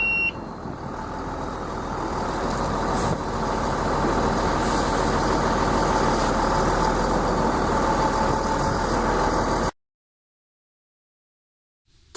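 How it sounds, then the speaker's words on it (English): A loaded truck drives across freshly sprayed asphalt tack coat on a road paving job to deliver its load, a steady rumbling engine and tyre noise building and holding, then cutting to silence near the end. "the truck is driving through the tack to deliver the load"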